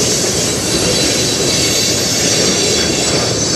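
A long CN freight train rolls past a railside spot in Sarnia, Ontario, its cars grinding and rumbling loudly and close with faint wheel squeal, no talk.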